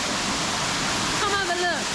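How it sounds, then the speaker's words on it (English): A waterfall inside an open-air building in Penang, Malaysia, pours with a loud, steady roar and hiss that fills the whole stretch, while a voice briefly rises over it near the end. "With its own waterfall."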